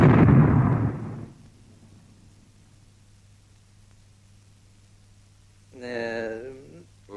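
A single loud booming blast like cannon fire opens and decays over about a second, followed by quiet, then a voice speaks briefly.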